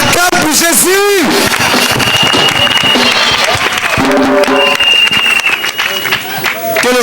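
A church congregation at a sketch in Bouaké claps and cheers loudly and steadily, a dense crowd roar with shouts and whoops over a voice calling out above it.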